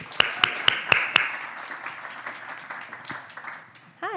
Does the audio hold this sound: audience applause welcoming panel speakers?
yes